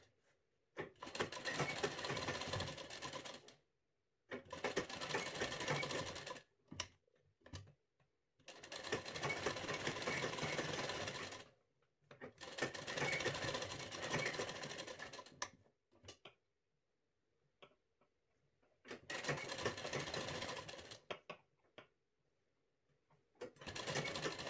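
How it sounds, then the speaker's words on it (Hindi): Domestic sewing machine stitching the neckline of a blouse, heard alone in several steady bursts of a few seconds each, separated by short pauses and small handling clicks. "अब गले पर सिलाई लगा देना है।"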